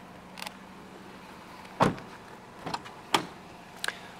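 Electric windows on a Nissan Qashqai 2.0 N-Tec automatic 4x4 with a panoramic roof give short, separate motor whirs and clunks, several brief bursts close by with quiet gaps between them and no talk.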